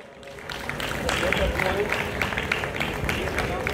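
An audience claps steadily through a performance of an audio drama, a moderate, continuous patter of hands with voices mixed in.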